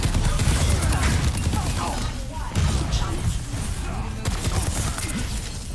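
Rapid bursts of gunfire from the video game Overwatch 2 crackle loudly and almost without pause, with brief dips between volleys.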